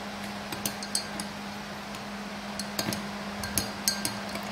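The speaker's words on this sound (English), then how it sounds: "You're going to be putting honey in here, and then you're going to be stirring it all up." Honey being stirred into turmeric tea: a spoon clinks lightly and repeatedly against the inside of a cup, bright scattered taps over a steady low hum.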